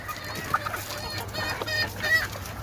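Pea head gamefowl hens in a brood pen cluck softly and intermittently at close range over a low, steady background hum.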